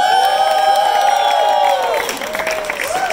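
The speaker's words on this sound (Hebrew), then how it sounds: "וקודם כל שעוד כפיים לשלגון" Studio audience applauding and cheering at a live comedy show, a dense continuous wash of clapping and shouts that stays loud throughout, with a bright whistle-like tone over it in the first half and voices mixed into the crowd noise.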